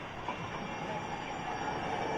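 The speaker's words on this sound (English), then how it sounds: "I hear whistles. I hear a train a-coming" A train rumbles past at close range, a continuous heavy roar with metallic rail noise and a faint high squeal.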